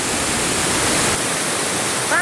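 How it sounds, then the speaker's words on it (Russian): Stevenson Falls, a waterfall near Marysville in Victoria, Australia, about 100 km from Melbourne, gives a steady, loud rushing roar of falling water, heard close and continuously. "Фантастические водопады. Прямо рядом с Мельбурном."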